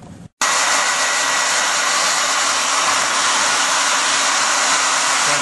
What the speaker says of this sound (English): I guess I'm going to run the hairdryer on it